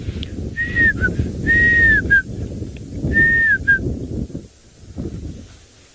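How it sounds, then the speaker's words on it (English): High, clear whistling calls of grey hornbills repeat in short two-part phrases over a steady low rumble of background noise, heard at sunrise on a safari drive. "the grey hornbills in the background. Very high-pitched whistling sound."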